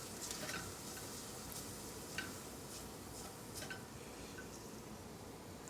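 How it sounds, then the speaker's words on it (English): Onions being stirred in a pan with the heat just turned off, a soft steady sizzle with faint scraping and occasional light utensil clicks, quiet and close. "I'm gonna stir up the onions."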